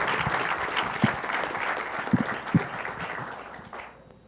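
An audience applauds a speaker being introduced at an event, a steady patter of many clapping hands with a few louder claps, fading away toward the end.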